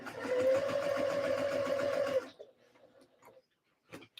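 A sewing machine stitches a half-inch seam with a short stitch length on a skort, whirring steadily and close for about two seconds, then stopping, followed by a few faint clicks and handling sounds.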